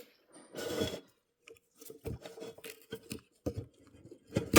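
An old pull-start cord on a vintage Briggs and Stratton rototiller engine being cut off, heard as close, short rasping snips and scrapes in uneven bursts with gaps of silence.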